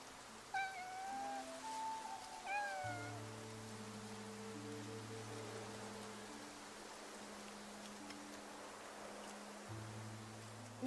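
A cat meows twice in quick succession near the start in Infinity Nikki, then steady low synth tones play under a soft hiss like rain.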